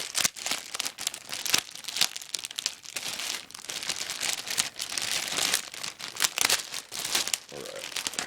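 Packing tape being peeled and torn off a parcel containing military surplus pouches: close, loud crinkling and ripping strips in repeated bursts, with rustling plastic in between.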